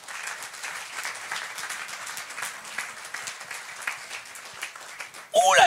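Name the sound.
congregation cheering and applauding the Lord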